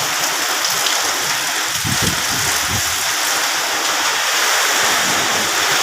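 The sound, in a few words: heavy rain with strong wind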